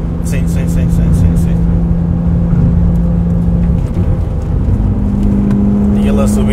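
A BMW E36 M3 engine drones loud and steady while the car corners, its pitch holding then dipping and climbing again, close and continuous throughout.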